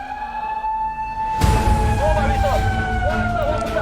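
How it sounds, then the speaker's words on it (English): Emergency sirens wail loudly during a Singapore special operations selection course, their wavering tones rising and falling continuously over a steady background hum after a sudden onset. "Sirens going again."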